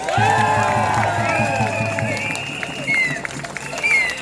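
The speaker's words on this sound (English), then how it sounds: "Give yourselves a round of applause" Outdoor freedom rally crowd in Melbourne applauding and cheering after a speech, a broad steady wash of clapping with whoops and shouts mixed in, loud and sustained throughout.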